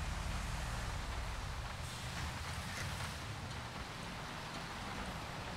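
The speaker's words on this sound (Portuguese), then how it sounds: "O pessoal tá com medo de sair na chuva" Steady rain pours throughout a GTA V bus-driving game scene, a constant broad hiss of drops with low rumbling underneath, loud and unbroken.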